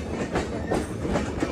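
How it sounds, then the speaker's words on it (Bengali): Kapotaksha Express intercity train pulling out of Poradah railway junction on the Rajshahi to Khulna run: a steady, moderately loud rolling clatter of wheels and carriages, with rhythmic clickety-clack over the rails and no voices. "আমরা আমাদের নির্ধারিত যাত্রা শেষ করে ডিপার্চার নিচ্ছি পোড়াদা রেলওয়ে জংশন থেকে"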